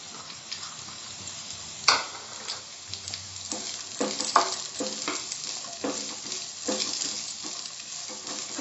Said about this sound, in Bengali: এবার পেঁয়াজ কুচিটা দিলাম।